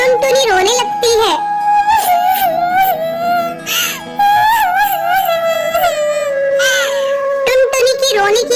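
A cartoon bird character cries: a voice actor imitates wailing, sobbing cries in long, wavering, rising and falling bursts, loud and close, with no other sound.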